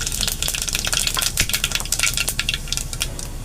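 Mustard seeds and cumin crackle hard in hot oil, a dense, loud, close sputtering of rapid pops with occasional metallic clinks of a spoon on the pan, no voices.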